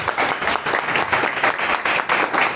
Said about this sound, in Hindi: एक बार उनके लिए जोरदार ताली दें।